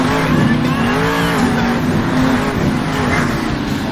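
The EarthShaker monster truck's engine roars loud and steady during a freestyle wheelie at a stadium show in Salt Lake City, its pitch wavering as the throttle shifts, with crowd and arena noise behind.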